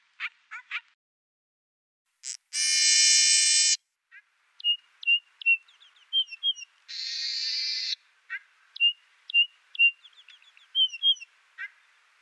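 A bird sings alone against silence: short sharp chirps in scattered phrases, broken by two sustained buzzy trills.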